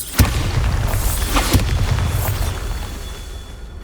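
Bombarda blasting spell going off in Hogwarts Legacy: a loud booming explosion with a sharp onset, followed by a second thud and rumbling debris that slowly fades.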